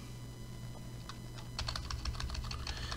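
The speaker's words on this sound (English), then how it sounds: "I'm going to type" Fingers tap on a computer keyboard, with sparse soft keystrokes giving way to a quicker, denser burst of typing near the end, all fairly quiet and close.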